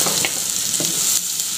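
Fried chicken tikka pieces sizzle loudly in hot masala gravy in a pan, a dense, close, steady crackling hiss with a couple of soft stirring bumps.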